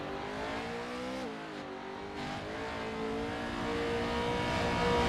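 A race truck engine in iRacing revs hard and steadily, a buzzing tone that dips briefly as if shifting, then climbs and grows louder toward the end, with no talk.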